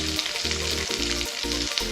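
Leftover food frying and sizzling in its own rendered oil, a steady close crackle with bursts of stirring and scraping, loud and continuous with no talk.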